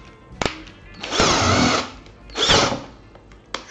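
A Stilmax STL5800F 58V cordless impact drill whirs in two short bursts, separated by a pause, with a couple of sharp clicks at the start and end.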